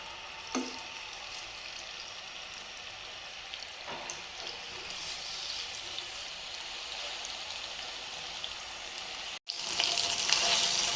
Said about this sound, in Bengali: এগুলোকে ফ্রাই করে ছোট ছোট পিস করে কেটে নেব।